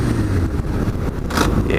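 Suzuki GSX-R motorcycle engine running loud and close, a brief steady roar with a rough, windy texture and no talking.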